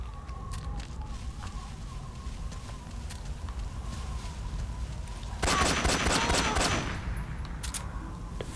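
Rapid automatic gunfire from the video game Metal Gear Solid 3 erupts in a dense burst lasting about a second and a half, loud over a quieter background of scattered game sounds.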